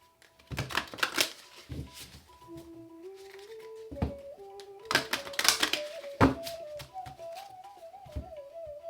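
Crisp riffling and clattering bursts of cards being shuffled, with a soft whistled melody drifting underneath.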